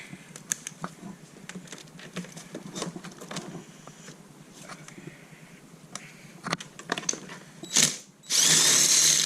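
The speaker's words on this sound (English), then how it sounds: "Take out my spark plug." A 5/8 socket removes a spark plug from a dirt bike: scattered close metallic clicks and taps build up, then a short, loud whirring burst of a tool closes the sequence. No one speaks.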